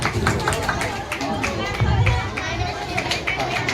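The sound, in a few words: audience applause at school event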